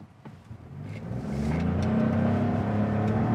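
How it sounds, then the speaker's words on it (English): A 2021 Buick Encore GX accelerating hard from a stop with its tires spinning, the engine note rising quickly into a sustained loud roar heard from inside the cabin. "Spun the tires."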